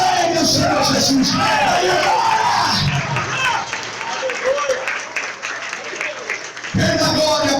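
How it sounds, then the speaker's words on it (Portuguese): A church congregation claps loudly in a dense burst that fades after a few seconds, with a voice shouting over the applause throughout. "Aplaude bem o Senhor Jesus."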